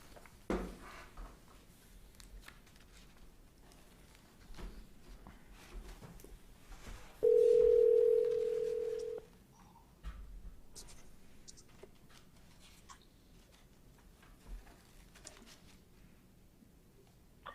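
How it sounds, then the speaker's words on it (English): A brief electronic tone, like a telephone dial tone or dialing beep, sounds for about two seconds during a remote school committee meeting, standing out clearly over a quiet room with faint background rustle. "I will put her phone number in"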